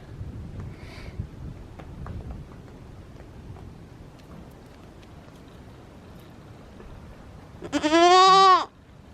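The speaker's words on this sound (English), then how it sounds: "You are a cute little goat." A goat on a homestead gives one loud, close, quavering bleat near the end, after several seconds of quiet outdoor background with faint scattered knocks.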